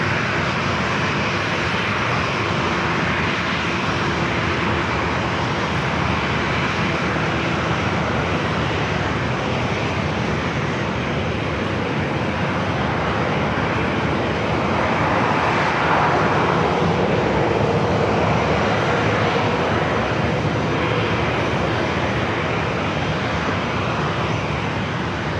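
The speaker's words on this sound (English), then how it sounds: "The 777 will be the next arrival." Jet engine roar of a Boeing 777 arriving at San Diego airport, a steady broadband rush that swells slightly midway and holds loud throughout, with no voices.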